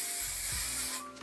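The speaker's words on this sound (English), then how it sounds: "I'm gonna just grab my hairspray here." Close, short burst of hairspray sprayed from an aerosol can onto hair with extensions, a bright steady hiss lasting about a second before cutting off.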